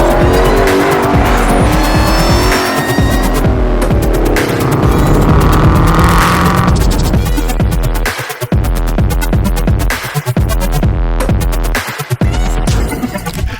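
A 1000 hp supercharged Ford Shelby GT500 V8 engine revs hard, with loud sustained roaring, rising supercharger whine and tire squeal, then a choppy burbling idle broken by sharp blips near the end.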